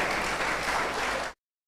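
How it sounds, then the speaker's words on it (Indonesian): Clapping from a church congregation, a dense, steady burst of many hands at moderate loudness that cuts off abruptly and leaves silence. "Nggak tepuk tangan semua."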